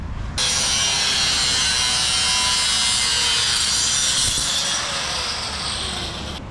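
A loud, continuous cutting sound rasps steadily for about six seconds as metal bars are cut in a pig pen, close and unbroken with a slight drop in level near the end.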